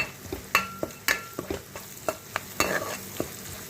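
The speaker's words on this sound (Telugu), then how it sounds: "బాగా వేగాయండి ఉల్లిపాయలు." Onions fry in a pan with turmeric while a spatula stirs them, giving a soft sizzle broken by repeated close scraping and tapping strokes at an uneven rhythm.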